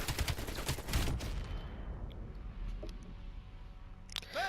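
AK-47 firing in Call of Duty Black Ops Cold War, a rapid burst of shots at the start that trails off into quieter game ambience with a few faint clicks.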